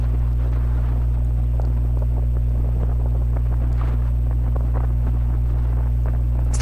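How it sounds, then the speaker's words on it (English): Strong wind buffeting an outdoor microphone at an evening baseball game, a constant low roar with gusty rumble throughout, loud and steady, without talk. "As the wind continues to blow out here, I think you can hear it on the broadcast if you listen closely."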